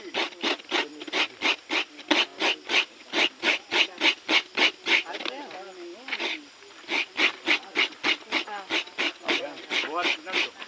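Coconut meat is scraped on a sharp grater in fast, even rasping strokes, about two each second, with a short pause halfway, while people talk nearby.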